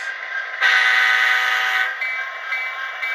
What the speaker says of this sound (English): Real nice sounding locomotive.